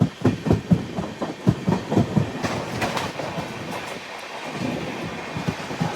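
A passenger express train moves through Jolarpettai railway junction, with loud rhythmic clickety-clack wheel beats over rail joints. These give way to a deep, steady rumble nearby.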